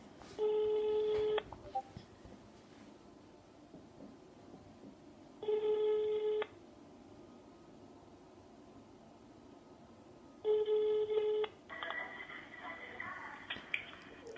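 A telephone call rings out through the handset, three long ring tones evenly spaced with silent gaps between them, the last followed by a burst of line noise as it connects; no voices are heard.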